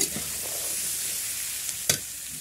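Mixed vegetables with capsicum and onion fry for veg chowmein in a pan, giving a soft, continuous sizzle with a couple of faint stirring clicks near the end.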